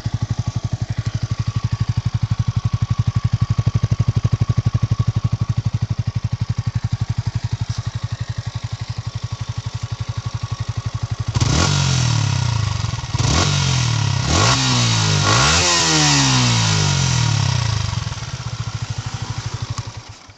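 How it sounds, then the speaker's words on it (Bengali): A Yamaha R15 V3 motorcycle sits idling in neutral with a steady exhaust burble, then gets several sharp throttle blips that rev up and fall back, loud and close. "অ্যান্ড এটার এক্সস্ট নোটটা তোমরা একবার শোনো"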